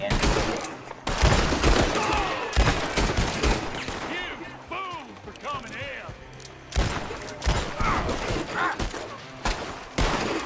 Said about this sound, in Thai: ยิงขาลองยิงขา มันจะล้ม